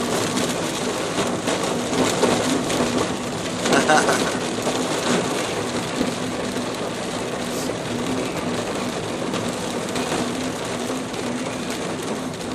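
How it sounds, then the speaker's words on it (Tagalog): Heavy rain in Doha, Qatar pours down in a dense, constant roar that stays steady from start to finish, with no pauses. "Bihira itong ganitong ulan na to."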